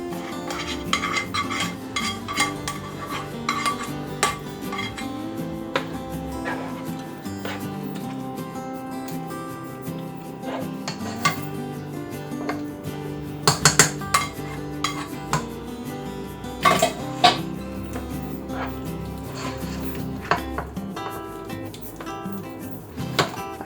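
Onions going into a pot of malanga soup and being stirred, with scattered clinks and scrapes of a utensil against cookware over a low steady background, intermittent and close, no speech.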